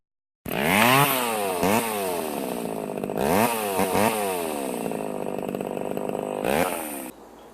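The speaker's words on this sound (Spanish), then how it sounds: "vamos a imitar el sonido de la motosierra" A chainsaw revs repeatedly, the loud engine whine rising and falling in pitch over several bursts before cutting off abruptly, with no talking.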